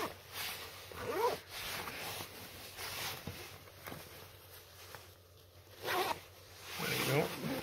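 Zippers on the back of a snowsuit's legs being worked open and closed, a few quick, close rasping pulls with soft handling noise and faint voices nearby.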